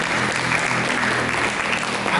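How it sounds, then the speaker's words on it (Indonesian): Church congregation applauding steadily and loudly during a sermon, a dense wash of claps with low hum beneath, no voices breaking through. "Berikan tepuk tangan untuk Yesus."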